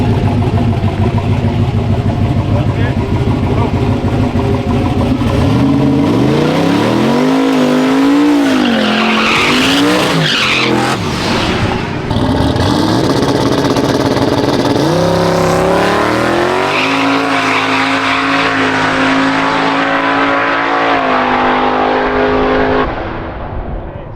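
Drag race car making a test pass down a tricky track, loud sustained engine roar with rising revs through gear changes and a tire squeal, close, then fading away at the end.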